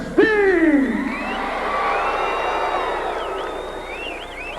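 Wrestling arena crowd in Houston cheering loudly at ring introductions, a dense roar of shouts, whoops and high whistles swelling near the start and sustained throughout.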